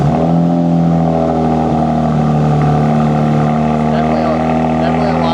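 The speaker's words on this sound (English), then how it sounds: "it's time for the cold start" Ram truck fitted with an AWE exhaust firing up from a cold start, a loud, raspy engine roar that holds at high revs close by, with voices faintly underneath.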